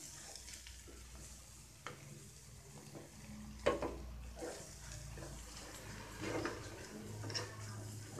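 Scrambled eggs with chili powder stirred in a hot pan on full flame give a soft, steady sizzle with scattered scraping and spoon clicks, fairly faint and with no one talking.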